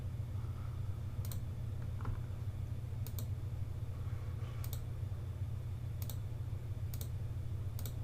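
Sharp, faint computer mouse clicks, about six spaced irregularly over a low steady electrical hum, with no talking.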